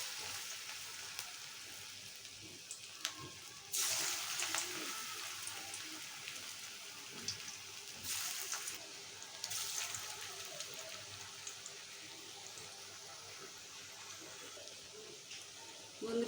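Bottle gourd leaf chops fry in hot oil in a wok, giving a faint, steady crackling sizzle close by, with a few brief louder bursts of spatter and no talking.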